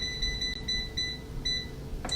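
A Simple Living Products air fryer set to 400 degrees gives a series of short, clear electronic beeps as its buttons are pressed, several evenly spaced chirps over a low kitchen hum.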